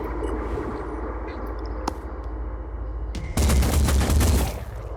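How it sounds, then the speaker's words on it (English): Weapons fire in the turn-based tactics game Phoenix Point, aimed at a heavily shielded enemy: a quiet background with a few faint clicks, then a loud burst of gunfire lasting about a second before dying away. "Let's just fire from where you are."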